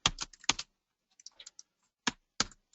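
Keys clack on a computer keyboard in short close bursts, a quick run of taps, a pause, then a few more strokes.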